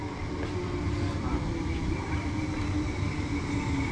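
A Merseyrail class 508 electric train, unit 508114, pulls into a station with a steady rumbling roll and faint squeals, moderately close and continuous.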